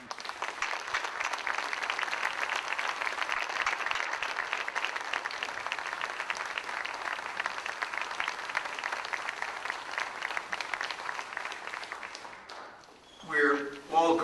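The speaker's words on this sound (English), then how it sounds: "We've already thanked Speaker Gingrich with one round of applause, but I ask that you join me again" A large audience applauds a speaker at a formal event, steady sustained clapping for about twelve seconds before it fades and a voice begins.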